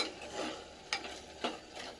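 Ground masala paste frying in a pan, a soft steady sizzle with a few sharp scraping stirs at regular intervals, close and fairly quiet, no voices.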